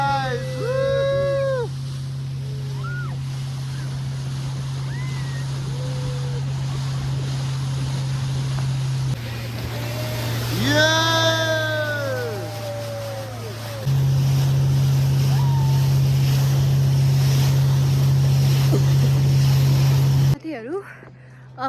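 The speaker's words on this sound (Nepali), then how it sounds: "इन्द्र सरोवरको बोटिङ है गाइस" A motorboat on Indra Sarovar lake at Kulekhani hums with a steady, low engine drone throughout. Its pitch shifts partway through, and people talk and exclaim loudly over it.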